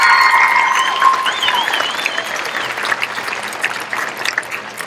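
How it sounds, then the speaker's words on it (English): Audience applause at the 2015 Southwest high school graduation ceremony for the valedictorian and salutatorian: a dense, steady wash of clapping that begins at full strength and slowly thins and softens, with a few brief tonal sounds near the start. "Let's give them another round of applause."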